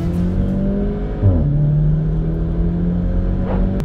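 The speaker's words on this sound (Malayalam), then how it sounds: "ഗിയർ ലൈക്ക് ഗിയർ മാറുമ്പോഴുള്ള ബ്രും ബ്രും ബ്രും ഉണ്ട്." A modified Volkswagen Polo GTI, quoted at 190 BHP and 250 Nm, drones with a steady engine tone. The pitch dips briefly as the gear shifts, then settles into a loud, close, continuous hum.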